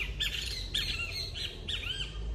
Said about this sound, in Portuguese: Oi, passarinho, tá querendo aparecer aqui no vídeo.